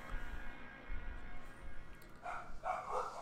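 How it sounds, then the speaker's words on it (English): Dogs bark in the video game Kentucky Route Zero, a few muffled, somewhat distant barks rising late over a low rumbling game ambience. "Interesting that there are dogs barking."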